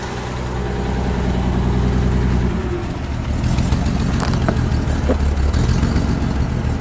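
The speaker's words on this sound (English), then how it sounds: "Listen to the exhaust at idle." Exhaust of a 1956 Mercedes-Benz 300SL Gullwing burbling at idle, loud and close, a steady rumble with a few small blips and clicks and no talking.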